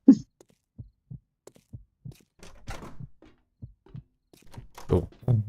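A heartbeat thumps in the video game 7 Days to Die with the Darkness Falls mod. The low, muffled beats come in a steady rhythm about every half second, with faint game noises and a voice in between.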